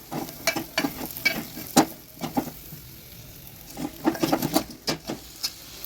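Drumstick pods tipped into a pan of cooking dal, with a run of clattering, tapping stirs and light sizzle, close and fairly quiet, with pauses between bursts.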